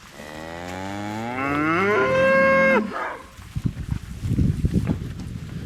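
Horned cattle bale grazing around hay bales give one loud, drawn-out moo that rises and swells before breaking off, followed by close rustling and tearing sounds at the hay.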